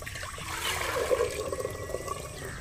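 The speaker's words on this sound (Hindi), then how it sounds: "हंडिया में डालेंगे पानी," Water poured into a clay cooking pot set on a village stove, a steady close trickle and splash running the whole time with faint outdoor noise behind.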